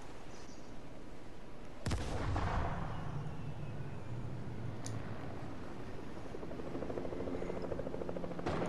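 Fortnite battle: a helicopter drones steadily in the game while a sharp shot or blast cracks out, followed by another distant shot and scattered gunfire over continuous rotor noise.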